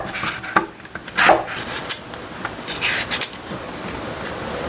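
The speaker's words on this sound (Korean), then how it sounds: "믹서기에 갈기 편하게 뚝뚝 썰어줍니다" Knife cutting washed whole apples, skin on, into rough chunks on a board for blending into a marinade; a series of close, crisp chopping knocks and scraping sounds with no talking.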